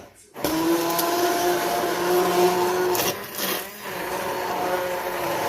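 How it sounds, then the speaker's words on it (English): A handheld immersion blender purees hot roasted tomato basil soup, its steady loud motor whir running continuously after a brief start, with a short dip in pitch partway through as the blade shifts in the pot. "take my handy dandy immersion blender right here, and I am going to blend this up."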